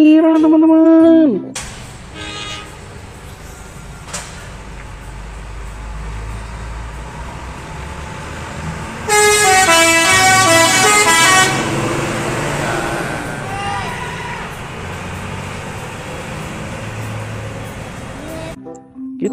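A loud horn toots up front, then a large intercity bus rumbles past while a long, musical multi-tone horn blares for a few seconds before fading.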